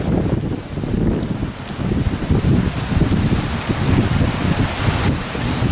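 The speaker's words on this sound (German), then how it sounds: "Sehen wir, wie der Regen da von dem Autodach abperlt." Heavy rain patters densely on a car roof during a stormy thunderstorm, a constant close-up rush with wind behind it, no talking.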